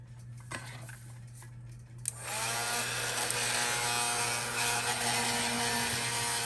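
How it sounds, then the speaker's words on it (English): An embossing heat tool switches on partway through and blows a loud, steady broadband whir that runs continuously to the end while a card with Versamark embossing powder is heated. "And then we're going to get our heat tool."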